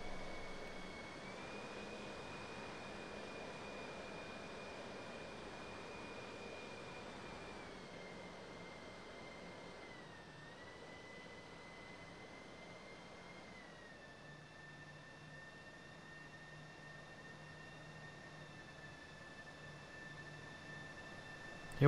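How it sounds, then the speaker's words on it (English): An RC plane in the RealFlight 9.5 simulator video game drones steadily at low volume, a thin engine whine holding one pitch with slight shifts as it makes a low flyby. "And we'll do a flyby."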